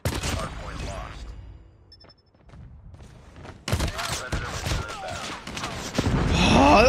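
Hipfire gunshots in a shooter video game, bursts of sharp shots, with a quiet lull in the middle before loud gunfire resumes, a player's voice murmuring under it.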